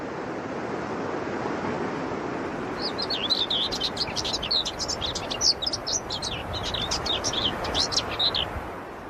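A common whitethroat sings its scratchy, rapid territorial song on moorland, several bursts of chattering notes carried over a steady wash of wind and distant surf.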